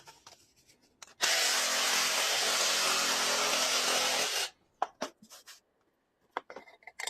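Power drill running in one loud steady burst of about three seconds, bracketed by scattered knocks and handling clatter.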